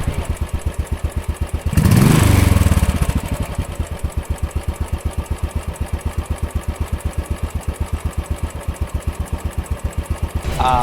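A 2016 Royal Enfield Classic Chrome 500 motorcycle's single-cylinder engine thumps in a fast, steady rhythm while riding, loud and close, with a brief rise in revs early on.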